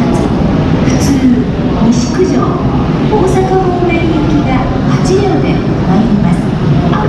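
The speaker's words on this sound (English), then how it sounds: "Here it comes. Train approaching." Train pulling into a JR station platform in Osaka, a steady loud rumble and hum of rail wheels and motors with brief high squeals and chimes over the top.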